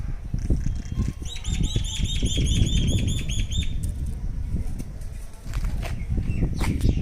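A male and female pair of myna birds chirping at Orchha fort, a string of quick repeated bright calls over steady outdoor background noise, fairly close.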